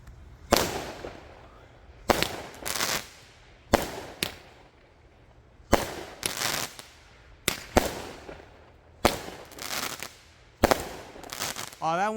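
Paradise 200 gram 8-shot firework cake firing its shots as sharp, loud bursts spaced across several seconds, each crack followed by a brief crackling tail, with pauses between volleys.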